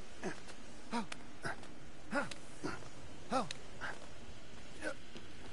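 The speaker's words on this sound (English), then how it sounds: "You hear it barking? I can hear it barking." Cerberus, the hound creature in Immortals Fenyx Rising, barks repeatedly at a moderate distance, a string of roughly ten rough, evenly spaced barks that are fairly faint and carry a wheezy edge.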